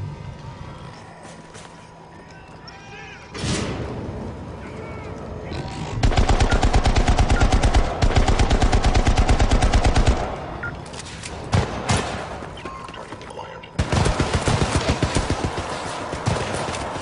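Machine gun bursts from a gun turret in the video game Syndicate, firing in loud sustained rattling volleys with short gaps between them, over game background noise.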